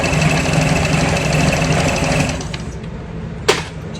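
A sewing machine stitches a handbag with steady, rapid needle chatter and motor hum for a little over two seconds, then winds down, ending with a single sharp click near the end.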